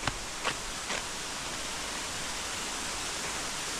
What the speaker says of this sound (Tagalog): So yan yung waterfall.